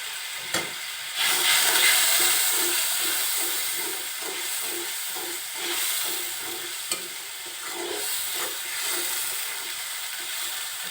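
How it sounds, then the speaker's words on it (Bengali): Spices sizzle in hot oil while being stirred and sautéed for a rohu fish and gourd curry, making a steady close frying hiss with a regular rhythm of spoon scrapes across the pan. "মশলাগুলো সব একসাথে কষিয়ে নিচ্ছে"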